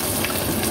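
A brief, steady rush of water pouring into a cooking pot, close and fairly loud, with no talking.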